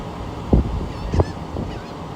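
Black skimmers calling at a nesting beach in Rockport, Texas: two short, nasal, honking yelps about half a second apart, with fainter calls after them over steady wind and surf noise.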